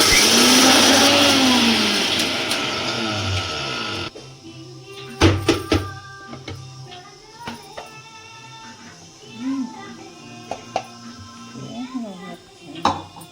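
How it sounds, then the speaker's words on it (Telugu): A mixer grinder whirs loudly grinding spices for a few seconds, then stops abruptly, followed by clinks, handling noises and a person speaking. "మిక్సీ నైస్గా వేస్తున్నామా"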